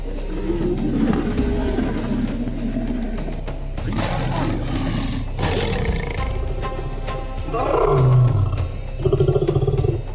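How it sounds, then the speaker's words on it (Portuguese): A lion roars in a sound effect, with deep rumbling growls and roars swelling and fading over several seconds, loud and near, with a few sharp breaks between bursts and no talking. "rugidos que ecoam na escuridão"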